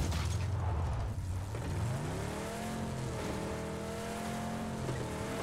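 Car engine in PUBG on the Miramar map, a steady droning motor with a gear change and rising revs, loud and continuous with no voices over it.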